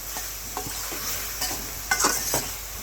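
Turmeric- and salt-marinated pabda fish sautéing in a pan, a continuous light sizzle with a few soft stirring clicks and scrapes, close by, no speech.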